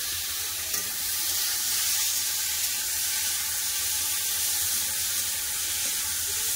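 Potatoes frying in oil in a kadai with a dried red chili, browning: a dense, hissing sizzle close by, steady and even, with faint crackles and no talking.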